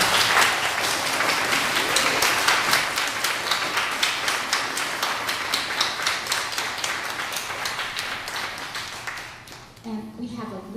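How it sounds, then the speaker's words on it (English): An audience at a middle school graduation ceremony applauds the parents of 8th graders with loud, sustained, evenly rhythmic clapping that slowly thins out, followed by a brief voice at the end. "Moms and dads of 8th graders, let's give them a round of applause."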